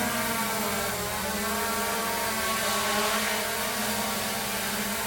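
A DJI Mavic Air 2 drone spins up and takes off with a steady, loud, buzzing whir of propellers close by, holding an even pitch throughout with no voices.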